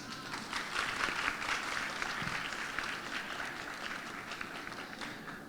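Faint audience applause, a steady wash of clapping throughout with no talking.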